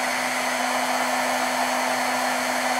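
Heat gun melting embossing powder for a stamped craft piece, a steady close whooshing blower with a constant motor hum that drones without a break and no talking.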